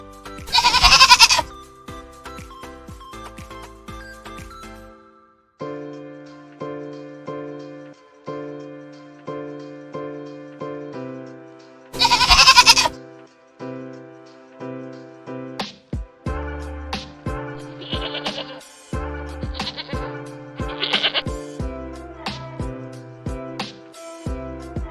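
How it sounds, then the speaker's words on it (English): Goats bleat in a farm setting, a series of loud, wavering calls alone with short gaps, then a run of quicker, choppier bleats toward the end. "Goat."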